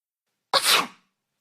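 A single short, sharp sneeze in an English vocabulary lesson, loud and close against total silence, with an abrupt burst that trails off within half a second.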